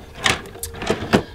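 A studio desk drawer slides open with a few short rolling scrapes and soft knocks, close and fairly loud with no talking.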